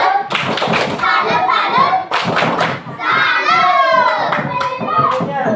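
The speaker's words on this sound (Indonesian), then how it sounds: "Tepuk salut." Children in a classroom perform the rhythmic 'tepuk salut' clap, a loud run of sharp, patterned claps and thuds mixed with young voices chanting and shouting along.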